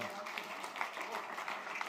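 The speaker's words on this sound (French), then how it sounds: "On peut vous applaudir." Audience applause at a French university conference event, a dense steady patter of many hands clapping at moderate volume for a couple of seconds, with a voice briefly audible.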